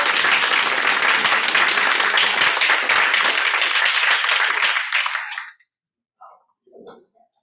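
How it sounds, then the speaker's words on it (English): Steady, dense audience applause at a talk on Oregon wild bee findings runs for about five seconds, then cuts off abruptly, leaving a couple of faint, short sounds in the quiet after. "So seriously, give yourself a round of applause."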